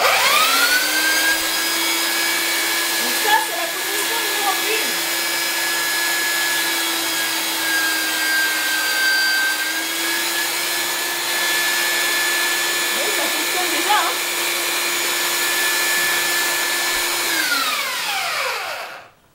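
A Parkside belt sander (PBSD 600 A1 or PBS B1) runs steadily at a moderate speed with a loud, even whine. It holds for about eighteen seconds and then spins down at the end. No one speaks over it.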